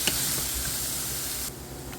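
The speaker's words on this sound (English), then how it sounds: "stir up the vegetables that are sauteing" Vegetables sautéing in a pan for an egg bake, a steady broadband sizzling hiss that drops off partway through, no talking.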